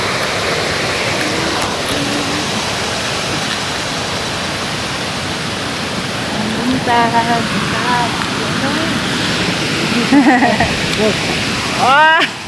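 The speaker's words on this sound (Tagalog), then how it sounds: "Tubig yun!" Steady, loud rush of falling water at Tagbilat Falls fills the whole stretch, close and continuous, with voices chattering and calling out over it.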